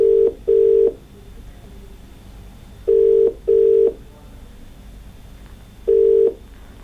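Telephone ringback tones on a call to a radio-show caller in Ganganagar, Rajasthan: steady beeping pulses in pairs, two long tones then a pause, repeating three times, clear and alone over faint line hiss.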